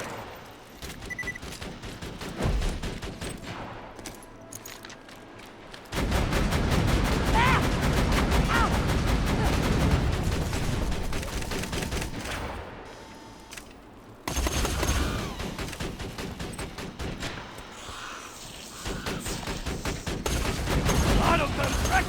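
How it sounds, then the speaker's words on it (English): Automatic turret gunfire in the Borderlands 2 video game, a dense sustained rattle of rapid shots with loud bursts and brief lulls, set against game effects and background voices. "Autogun's wrecking things!"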